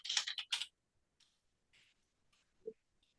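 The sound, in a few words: typing a change directory command on a computer keyboard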